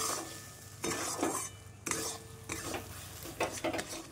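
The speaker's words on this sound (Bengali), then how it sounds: "দিয়ে ভালোভাবে নাড়িয়ে চাড়িয়ে নেব" Melon seeds stirred in a hot pan for sabudana laddu: repeated bursts of scraping and rattling from a spoon working against the metal, with short pauses between strokes and a faint sizzle underneath.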